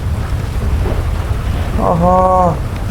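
Heavy rain hisses steadily over a low rumble of thunder in the video game GTA V, with a brief tonal honk rising near the end.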